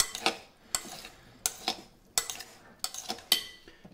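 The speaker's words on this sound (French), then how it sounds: "On mélange bien." A utensil stirring avocado, tomato and feta salad in a bowl, making a series of about six sharp scraping clinks at a steady rhythm, close and fairly quiet, with no talking.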